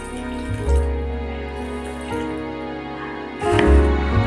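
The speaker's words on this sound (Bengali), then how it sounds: "এবার আমি এর মধ্যে জল দিয়ে দেব" Water is poured into a pan of sautéed vegetable curry for pabda fish jhol, a steady splashing pour with brief louder bursts near the start and end, no talking.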